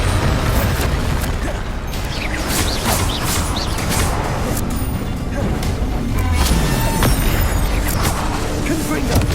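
The Bombarda explosion spell from Hogwarts Legacy bursts amid dense game audio, heavy low rumbling booms layered with mechanical clatter and whooshes, while a character's voice speaks over the action.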